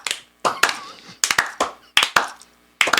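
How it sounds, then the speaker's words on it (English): Slow, deliberate hand claps ring out in a studio setting, about eight loud, distinct claps in an uneven rhythm with brief gaps between them. "Y'all keep clapping so I get the information"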